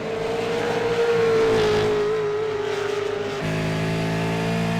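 A V8 Supercar racing engine drones steadily on a hot lap around a narrow, winding track, its pitch sliding slowly down and then shifting partway through, loud and close with no talk.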